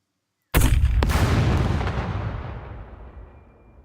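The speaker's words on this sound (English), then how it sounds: "the splash from the explosions" Artillery shells explode in the video game SCUM: a sudden loud boom, a second sharp crack just after, then a long rolling rumble that fades over several seconds.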